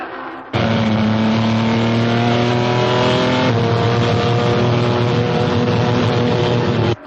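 Race cars speed along during a motor race, their engines a loud, steady roar that starts abruptly and holds without a break for several seconds before cutting off.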